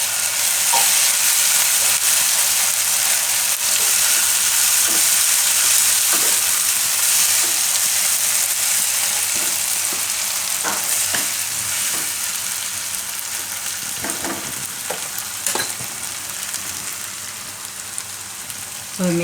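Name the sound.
stirring and frying tandoori Maggi mixture in a pan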